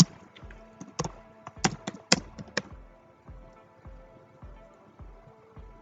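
Keystrokes on a computer keyboard while coding a web page, a quick burst of crisp clicks early on, then slower, scattered taps, close and fairly quiet with no talking.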